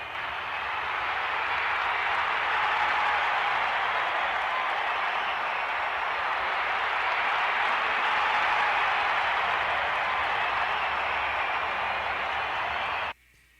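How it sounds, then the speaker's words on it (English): A pre-recorded crowd noise track plays back as a steady wash of cheering and applause from a large audience, even and sustained before cutting off abruptly near the end. "I made like a 4-minute crowd noise track a long time ago."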